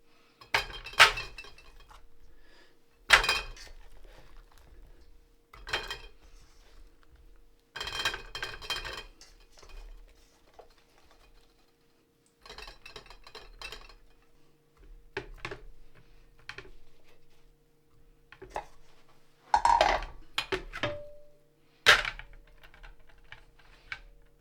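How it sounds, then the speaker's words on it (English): Pickled onions packed by hand into glass jars, with irregular bursts of clinks, knocks and rattles of glass separated by quiet gaps. "we can now start to pack our onions into our jars"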